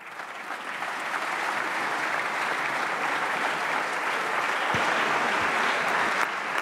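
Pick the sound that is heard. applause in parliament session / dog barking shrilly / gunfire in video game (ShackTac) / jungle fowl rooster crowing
applause in parliament session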